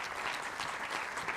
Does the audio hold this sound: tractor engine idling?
no